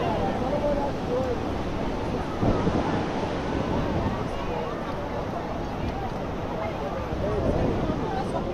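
Steady rushing surf and wind at Leblon beach in Rio de Janeiro fill the whole stretch, a continuous broad wash of waves with faint voices mixed in underneath.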